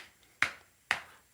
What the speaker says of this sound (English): This is the noise of me clapping my hand on my knee.